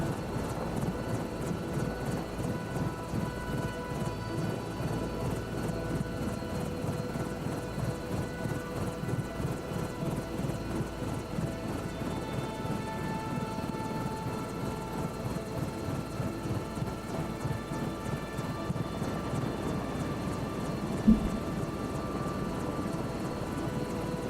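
A helicopter in Microsoft Flight Simulator 2024 drones steadily in flight, with a constant rotor thump and engine whine holding at an even level throughout and a single brief bump near the end.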